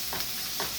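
Garlic sautéing in a pan for tacos, a continuous close hiss of sizzling with two soft stirring swishes.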